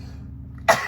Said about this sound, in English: I have to sneeze.